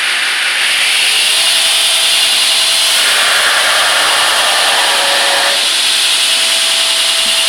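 A 2x72 belt sander and knife grinder grinds loudly up close, giving a continuous harsh abrasive hiss over the motor's hum, with the pitch shifting as pressure on the workpiece changes.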